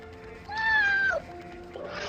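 A cat gives one clear, drawn-out meow that rises and then drops, close by and loud, over a quiet room background, followed by a short softer sound.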